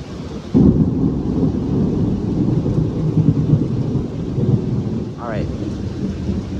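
Loud thunder booms and rumbles after a lightning strike during a damaging nighttime downburst, rolling on for several seconds over steady rain, with a brief whistle-like chirp near the end.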